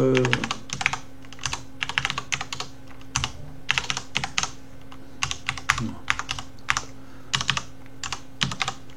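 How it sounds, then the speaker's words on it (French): Values being typed into a table in LibreOffice Writer on a computer keyboard: bursts of quick, close key clicks with short pauses between groups, and no talking. "Je vais taper quelques valeurs, hein, pas toutes."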